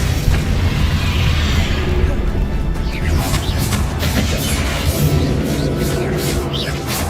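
Explosive spell blasts from a wizard duel in the game Hogwarts Legacy, thudding booms and crashes over a dense, continuous layer of combat noise and magic effects.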